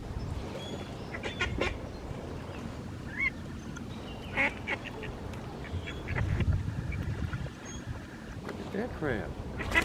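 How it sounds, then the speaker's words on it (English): Ducks fighting in mating season quack and honk in scattered, agitated bursts on open water at Chetek, Wisconsin, with splashing and a faint background hum beneath. "we started hearing this commotion back in the water, and just watch, these ducks started fighting"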